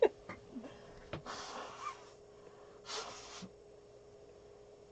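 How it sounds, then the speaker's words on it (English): A person blowing their nose indoors, a couple of close, breathy honking bursts separated by quieter sniffs and rustling, with no speech. "Pardon me, I need to blow my nose."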